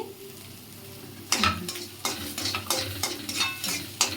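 Whole cardamom and cinnamon frying with green chillies in a pan, stirred with a utensil: a steady soft sizzle, then from mid-clip a run of louder scraping stir strokes close by, no voices.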